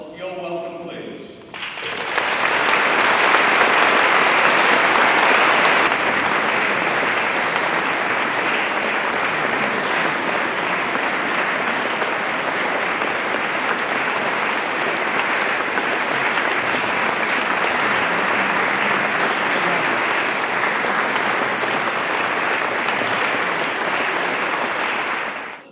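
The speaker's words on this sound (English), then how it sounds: "Ladies and gentlemen, with your applause" Sustained applause from a large audience at a mayor-making ceremony in Rochdale fills the hall, loud and dense, continuing at an even level for over twenty seconds before stopping.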